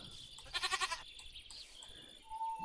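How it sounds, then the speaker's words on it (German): A sheep in the Minecraft video game gives one loud, nearby wavering bleat, then some quieter background sounds follow, with no talking. "Hier ist irgendwo ein Schaf."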